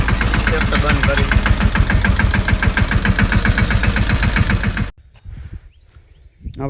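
A farm tractor engine runs close and loud with a rapid, even knocking chug for about five seconds, then cuts off abruptly, leaving quieter background sound and faint voices.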